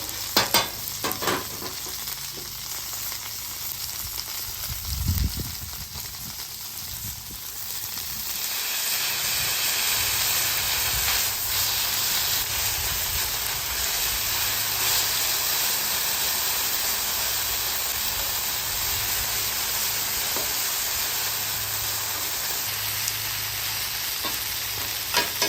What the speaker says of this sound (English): See how we're getting nutty with the noodles, toasting them up a little bit, pick up all that flavor from the beef.